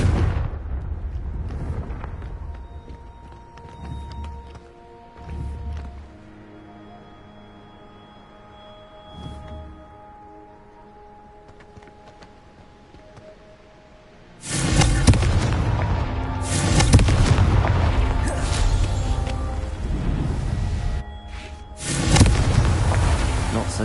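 Confringo fire spell blasts in the video game Hogwarts Legacy: a quieter stretch of low thuds and game effects, then from midway a run of loud, close, crackling explosive bursts, with a voice calling out the spell.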